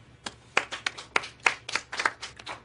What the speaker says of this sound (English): Let's all start clapping.